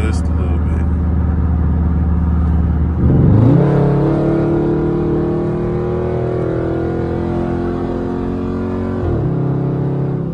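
A 2012 Dodge Charger SRT8 heard from inside the car: its engine hums steadily, then rises in a brief pull, its pitch climbing for several seconds before the revs drop back and settle.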